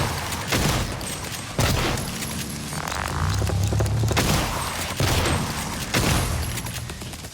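Shotgun blasts in the sci-fi shooter game Prey, five or six loud booming shots spaced roughly a second apart, with a rumbling low tail and faint electronic tones between them.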